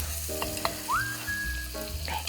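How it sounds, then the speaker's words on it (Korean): Butter and sliced bananas sizzle in a frying pan, a steady close crackle with a few soft clinks, while a sustained tonal hum runs beneath. "팬에다가 이렇게 넣으신 다음에 버터 넣을게요"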